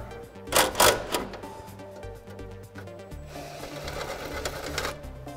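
The old rear fender is cut off a 1997-2006 Jeep Wrangler TJ with a close, rapid, rattling buzz that pulses steadily throughout.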